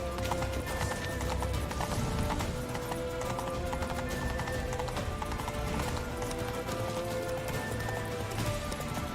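Steady clip-clop of galloping hooves in The Witcher 3: Wild Hunt runs throughout, loud and continuous over a busy game soundtrack, with an occasional faint whinny.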